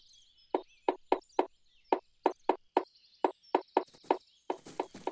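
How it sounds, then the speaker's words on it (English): A cartoon bird pecks holes in a tree: a quick series of sharp, hollow wooden knocks in uneven clusters, with light chirps and whistles above and a busier burst of pecking at the end. "It's a bird, and it's making holes in the tree."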